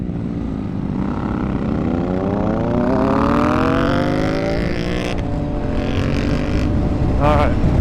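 A 2022 Triumph Scrambler 1200 XE motorcycle engine revs up steadily under hard acceleration, its rising harmonic whine loud and close with wind rush, tapering near the end as a rider speaks.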